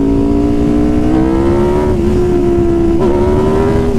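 A 2019 Aprilia RSV4 RR motorcycle engine drones loudly and steadily up close while being ridden, its pitch climbing slightly as it powers up.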